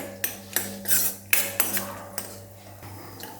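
Dry fruits being sautéed in a kadhai, a metal spoon scraping and tapping the pan in a quick, uneven rhythm of sharp clinks over a low hum.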